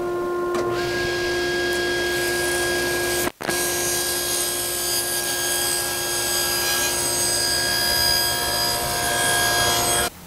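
A table saw fitted with a MicroDial taper jig cuts a taper along a board, giving a loud, steady whining hum with strong tonal harmonics, a brief sharp break partway through, then continuous cutting noise until it stops.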